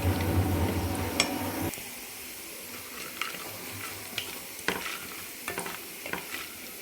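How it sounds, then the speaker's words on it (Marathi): Grated coconut frying briefly in ghee for a milk kheer: a steady loud sizzle fades after the first couple of seconds into quieter crackling, broken by scattered scrapes and taps of a spoon stirring in the pan. "छान थोडासा खोबऱ्याचा कलर चेंज होईपर्यंत आपल्याला परतून घ्यायचं आहे तुपावर।"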